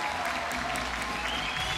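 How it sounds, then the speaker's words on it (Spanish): An audience in Concepción claps to welcome a comedian onto the stage at a humor show, a steady, dense wash of applause filling the whole moment. "fuerte el aplauso para recibir en este escenario al gran Manzanita Humor."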